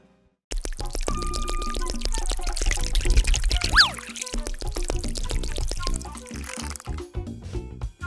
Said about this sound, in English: Let's mix all of this water and fill it up.